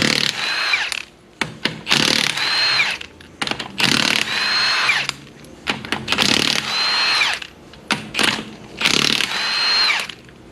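Power tool spinning lug nuts off a front wheel of a raised Nissan Maxima, loud close whirring bursts, about six of them, separated by short pauses.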